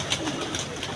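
Soft pigeon cooing, a few low murmuring calls close by against a steady background hiss.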